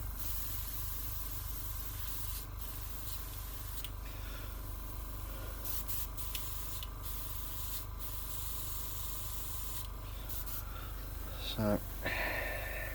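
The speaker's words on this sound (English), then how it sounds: "I'm just going to put just a really thin mist of grime over that initially" Airbrush spraying a thin mist of grime-colored acrylic paint while weathering a Bandai A-wing model kit, a steady close hiss running continuously with brief pauses near the end.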